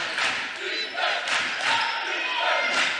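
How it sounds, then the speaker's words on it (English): Crowd at a college basketball game, tied at 69, keeps up a steady roar of cheering across the whole stretch with a few swells, and an announcer's voice runs over it. "Now the crowd into it at a tie ball game at 69."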